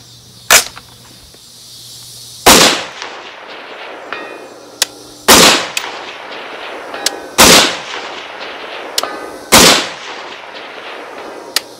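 Springfield Saint Victor .308 rifle firing at steel targets around 400 yards: five loud, sharp outdoor shots spaced a couple of seconds apart, each with a rolling echo, and faint distant pings of steel between them.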